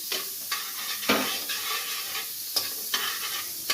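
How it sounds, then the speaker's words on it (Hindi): An ingredient, about one to two spoonfuls, melting in a pan as the base for a creamy white sauce pasta, with a soft continuous sizzle and repeated close scraping strokes from stirring, no voices. "अब इसके बाद हम ये देखिए इसको मेल्ट करते हैं।"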